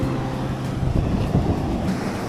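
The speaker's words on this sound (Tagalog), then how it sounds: "Lalaking alon, no?" Big, rough ocean waves at sea wash and rumble close by, a continuous churning roar with gusty wind buffeting the microphone.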